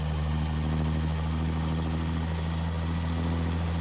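A game FL86 truck engine in American Truck Simulator idles with a steady low diesel rumble and strong harmonic drone, running continuously and close without talk.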